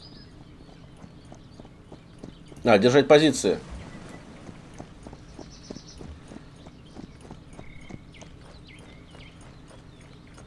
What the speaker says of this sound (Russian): Сейчас кони вперед побегут.